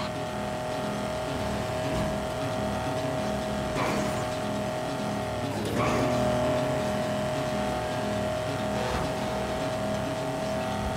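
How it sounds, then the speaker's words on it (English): A stolen truck driven in a video game, its engine droning steadily with brief revving surges and a couple of passing whooshes, loud and continuous with no voices. "Steal a truck and hitch it up to the trailer"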